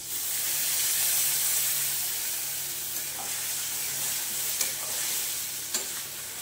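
Spice paste frying and being stirred in a pan while cooking chicken, a steady close sizzle and hiss with a few soft clinks of the spoon against the pan.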